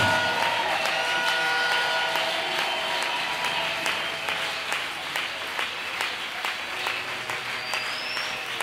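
Church congregation applauding and acclaiming, a dense, continuous wash of many hands clapping with faint cheering voices mixed in, steady and fairly close throughout.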